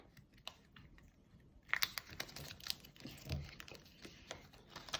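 Colored paper being folded into an origami car gives soft, close crinkles, creases and rustles that grow busier partway through, at a low level.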